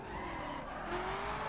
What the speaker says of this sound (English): it's really hard to drift in the crew